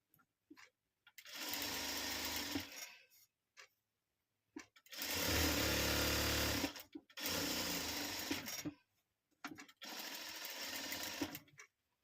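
A sewing machine stitches a small bag tag for a pouch in four separate bursts of rapid, close mechanical whirring, each lasting a couple of seconds, with short silent pauses between them.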